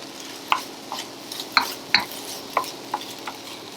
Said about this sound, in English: I'm just going to mix in our egg with our vegetables